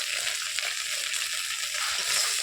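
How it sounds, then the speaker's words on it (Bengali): Dried red chilies and a pinch of nigella seeds frying in hot oil give off a steady, close sizzle with soft crackling throughout, with no voices present. "শুকনো লঙ্কা, অল্প কালো জিরা দিয়ে ভেজে নেব।"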